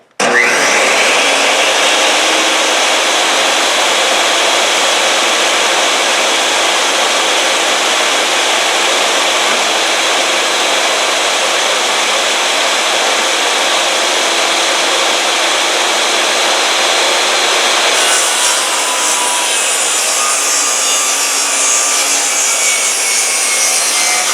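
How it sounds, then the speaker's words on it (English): A power saw cuts wooden boards for pantry shelving to 15 3/4 inches, roaring loud and steady for the whole stretch, with the tone shifting slightly near the end and no voices over it. "I'm just going to run these through the saw now that they're easier to manage size-wise"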